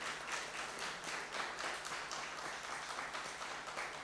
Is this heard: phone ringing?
no